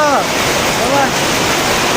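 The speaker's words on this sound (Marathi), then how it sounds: "आयला कसा आवाज येत आहे टिनाचा तड तड तड आवाज येत आहे" Heavy rain roars steadily and loudly on a tin roof in the jungle at night, a dense, unbroken wash of drumming with a faint voice briefly rising over it.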